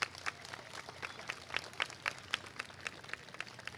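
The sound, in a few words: applause for the parents at school assembly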